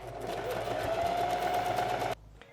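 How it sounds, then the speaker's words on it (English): A sewing machine stitches fabric in a steady, fast whirring run for about two seconds, close and fairly loud, then stops abruptly. "So we'll sew up to the edge."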